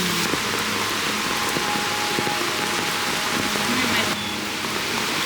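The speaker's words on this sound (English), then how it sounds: "It's raining." Rain falling on a hiking trail in Costa Rica during July, a loud steady wash of dense hissing drops that continues throughout with a slight dip near the end.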